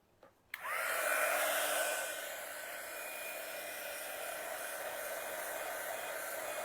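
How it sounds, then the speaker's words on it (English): A hair dryer blows steadily on a decoupaged bunny print after a click switches it on, a loud continuous whoosh that eases slightly and then holds level to the end. "let's go ahead and finish drying this."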